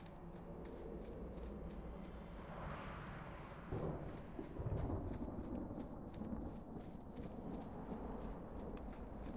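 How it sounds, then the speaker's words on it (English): Thunderstorm in the video game Dragon Age 2: steady rain-like hiss with low rumbling thunder swelling midway, a continuous moderately loud wash with no talk. "A storm is coming."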